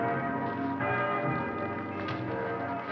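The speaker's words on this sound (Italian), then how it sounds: "per tutta la notte risuonarono i rintocchi delle campane a porre in fuga gli spiriti" Church bells toll in sustained, ringing strokes that overlap and hum on, loud and alone with no voices.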